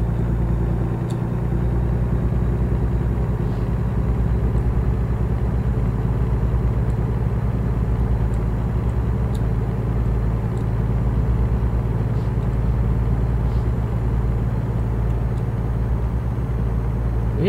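A heavy truck with a 10-speed gearbox drives at steady speed in American Truck Simulator, its engine a continuous low droning rumble that holds constant and loud throughout, with no voices.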